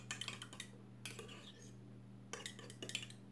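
Quick clinking and scraping of a utensil whisking egg, vanilla and milk inside a mug, in two or three short bursts separated by brief pauses over a low hum, with no voices.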